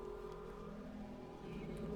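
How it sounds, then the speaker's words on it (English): A steady electronic hum with a droning, engine-like tone runs continuously at moderate loudness: the Metroid Prime pickup sound signaling nearby upgrades, looping in the background. "That noise you're hearing right now is the sound pickups make when there are upgrades"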